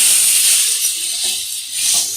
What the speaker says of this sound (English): Fry them until raw smell of liver goes off.